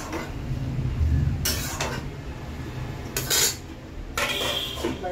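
A lid set down over a cooking pot of prawns, giving a few short metallic clanks and scrapes at intervals, close by over a low kitchen hum.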